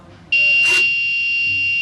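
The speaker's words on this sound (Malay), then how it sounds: "Apabila menggunakan kad yang tidak boleh diakses, pintu tidak akan terbuka, buzzer akan berbunyi" An RFID smart door lock's buzzer sounds when access is refused, a sudden loud, steady electronic tone that starts abruptly and holds, close up.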